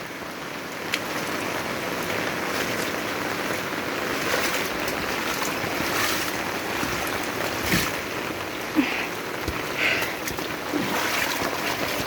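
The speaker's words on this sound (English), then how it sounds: "So the water is just running down here." Floodwater runs past a house after overflowing tanks, making a steady, broad rushing and splashing wash that continues without a break.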